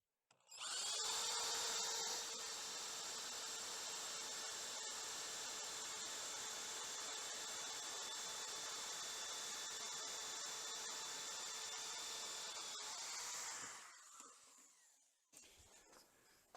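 A power drill whines at a steady high pitch as it cuts a 1/2-inch wooden dowel for over ten seconds, then winds down and stops, followed by faint handling noises.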